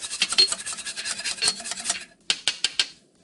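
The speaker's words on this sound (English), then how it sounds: "I'm going to whisk constantly until it thickens up" A whisk scrapes briskly through soy milk sauce with onion powder in a pan, giving rapid, close rhythmic swishing and rasping strokes that pause briefly, then resume in a few sharper scrapes.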